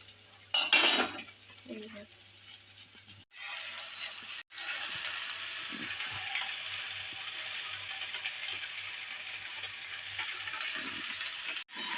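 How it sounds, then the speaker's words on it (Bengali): Jute greens stir-frying in a wok over low gas: a steady, soft sizzle runs throughout, opening with a brief burst of clattering utensil scrapes. "একটু নাড়াচাড়া করে নেব একটু ভাজা ভাজা করে নেব"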